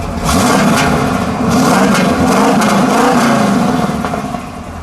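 The 6.6-litre V8 of a 1978 Pontiac Trans Am Special Edition revs up close and loud, its pitch rising and falling through several throttle blips over a deep rumble before it settles back toward idle.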